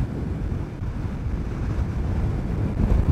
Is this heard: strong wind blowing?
yes